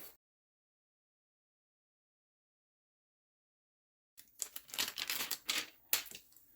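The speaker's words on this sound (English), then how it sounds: "So I'm going to take this and cut this down." Scissors cut a clear laminator sheet down to size for a see-through easel card, heard after a long silence as a close series of crisp snipping and rustling plastic sounds.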